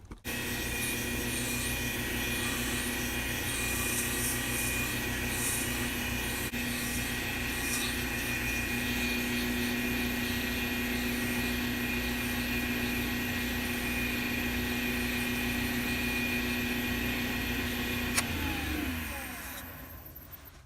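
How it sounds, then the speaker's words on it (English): Folded wet sandpaper spins inside the bore of a clear steampunk pen blank on a lathe, a steady droning whir with a constant hum that runs unbroken for about eighteen seconds before winding down. "I have a piece of wet sandpaper here. Just a little slice, fold it in half, and then into an S shape, and then jammed into the hole on the end."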